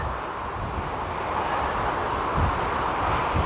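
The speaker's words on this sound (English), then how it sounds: "It's really quite windy on here now." Strong wind blows on an exposed coastal path near Penzance, a steady close rumble buffeting the microphone with no voices.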